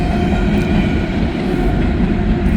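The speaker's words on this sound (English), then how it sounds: "Georgia Power and Light train head back to Illinois to get more coal" A Georgia Power and Light coal train rolls by close up, a steady loud rumble of railcars with faint clickety-clack and no voices.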